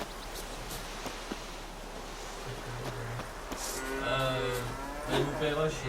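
Cows moo in The Witcher 3, a low harmonic lowing repeated several times over steady game ambience that swells toward the end.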